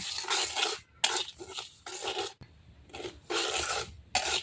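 Salt stirred and dry-roasted in a cooking pan: repeated scraping, rasping strokes of a utensil dragging coarse grains across the metal surface, coming in short rhythmic bursts with brief pauses, close and clear, with no talking.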